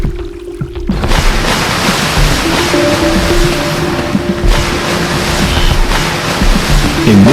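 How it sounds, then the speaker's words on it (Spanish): Hundreds of wildebeest crossing a river churn the water into a steady, loud rushing wash, with a continuous roar of splashing and turbulence and no voices. "Cuando la manada empieza a meterse al río, el agua se agita rápidamente bajo cientos de cascos."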